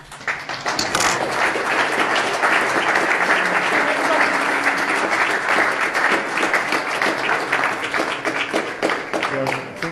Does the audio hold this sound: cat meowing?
no